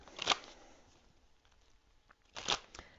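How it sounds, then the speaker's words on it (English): Tarot cards being shuffled, two short riffling bursts about two seconds apart, close and fairly soft with quiet rustling between them. "I'm going to continue to shuffle a little bit more"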